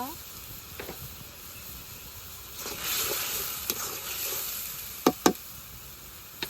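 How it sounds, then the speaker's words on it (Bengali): Dried fish (shutki) fries with spices in a pan, giving a soft continuous sizzle with a few sharp utensil knocks near the end. A voice speaks faintly underneath. "শুটকিটা হালকা করে কষে নিব"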